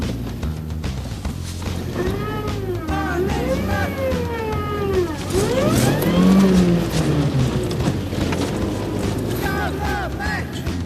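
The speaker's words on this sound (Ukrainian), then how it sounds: "ми даємо газу, автомобіль буксує і дуже погано набирає швидкість." A car's engine revs repeatedly, rising and falling in pitch as its wheels spin and slip on a snowy road, loud and sustained while someone talks over it.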